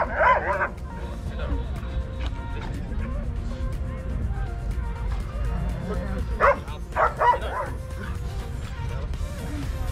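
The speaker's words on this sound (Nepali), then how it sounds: "ल्याबरडोर र कक्कर स्पाइनल डगका जातहरूबाट बाधा पार गर्ने" Army Labrador and cocker spaniel dogs working an obstacle course at a Nepal Army exhibition, giving a few short yips and barks in bursts over a crowd murmur and voices.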